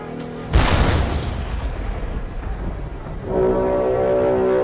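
A cannon booms on a battlefield, one loud, close blast that rolls off into a long rumbling decay, followed by a low droning tone.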